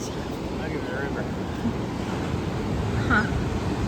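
Steady broad rushing of a swollen river in Mexico after a hurricane, a continuous loud wash of water with some wind, no voices.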